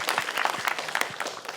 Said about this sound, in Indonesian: Yuk tepuk tangan dulu buat Kompas.